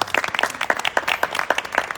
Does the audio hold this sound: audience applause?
yes